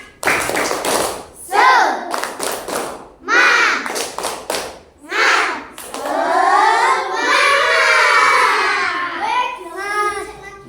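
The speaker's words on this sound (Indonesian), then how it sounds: "kita akan tepuk semangat dulu ya. Tepuk semangat." Children in a classroom do a rhythmic spirit clap led by a teacher, sharp bursts of claps alternating with chanted voices and a long sung call, close and lively.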